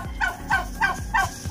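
Turkeys on a farm gobble in a quick, rattling series of about five calls at a steady pace, close and fairly loud, with no talking over them.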